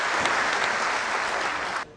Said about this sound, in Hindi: स्वामी जी का जोरदार तालियों स्वागत भी होना चाहिए